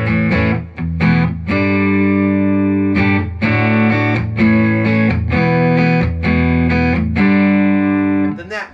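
An electric guitar through a Fender Deluxe Reverb Tone Master amp plays loud, sustained, richly overdriven chords, struck in a steady series of strums with brief gaps between them, with no voice over the playing.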